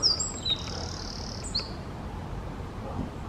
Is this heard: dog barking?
no